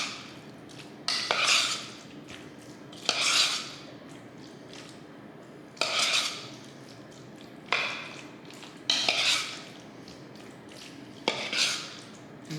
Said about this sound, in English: So this is kosher salt that I'm adding now. And we'll stir that around.